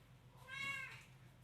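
A pet cat gives a single short, clear meow, fairly near and moderately soft against a quiet indoor background.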